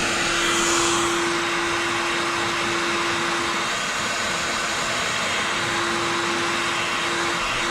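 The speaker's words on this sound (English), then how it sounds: "I think I'm going to have to get the heat gun on this to heat it up." A heat gun runs continuously close by, a steady loud airy roar with a constant whining hum, used to heat a stuck part on a car's aluminium radiator.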